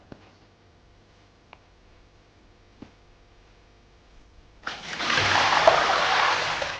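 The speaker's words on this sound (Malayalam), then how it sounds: "ഇനി ഈ വെള്ളം നമുക്ക് ഒഴിച്ച് കളയാം" Water poured off a bowl of soaked corn flour during homemade corn flour preparation: a few faint clicks, then a sudden loud, steady splashing pour for the last two seconds, heard alone without talk.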